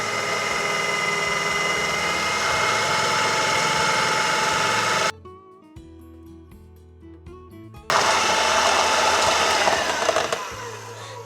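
An electric mixer whisks cake batter for a Napoleon layer cake as milk is added, giving a loud steady motor whir that cuts out for a few seconds to a quieter hum, then returns at full strength.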